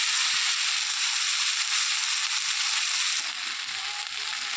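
Spice paste containing poppy seeds fries in a pan while making a small bata fish curry, giving a steady, close hiss and sizzle with faint crackles that continues throughout without talk.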